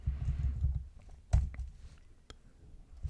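Soft keyboard typing at a computer while entering code, a short burst of low muffled clicks followed by a couple of sharper isolated keystrokes, close and fairly quiet.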